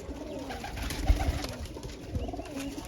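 Pigeons kept in a loft coo in low, soft bursts, close by, with faint rustles and flutters around them and no talk.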